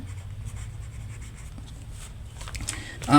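A pen scratches out a short label beneath a right-angle geometry drawing in a primary maths lesson, soft continuous scribbling close up, ending with a louder rustle.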